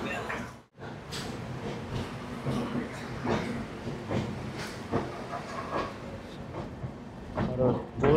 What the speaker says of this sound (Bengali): তো আমাদের ট্রেন ছেড়ে যাচ্ছে খড়গপুর জাংশন